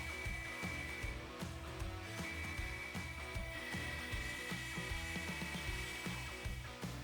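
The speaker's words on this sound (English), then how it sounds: "I went back to the CNC machine to try it again" A CNC router cuts a graphic into a workpiece with a steady, high whining spindle and a chattering, rhythmic grind that continues unbroken at moderate volume, with no voices.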